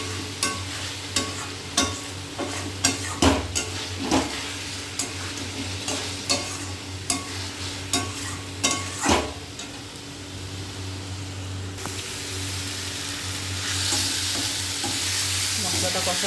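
Chicken masala and spices sautéing in a pan, with a steady sizzle under a run of regular scraping stirs that stop partway, leaving the sizzle to swell louder and closer alone.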